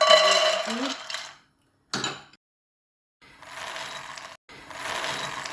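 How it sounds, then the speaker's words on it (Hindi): Cashews dropped into a hot kadhai, rattling and clattering against the metal pan in short bursts separated by silences, close and fairly loud. "अब इसमें डाल देंगे हम काजू"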